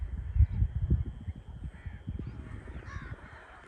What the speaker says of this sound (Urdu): اور اس وقت آپ دیکھیں پرندے اپنے گھروں کو رواں دواں ہیں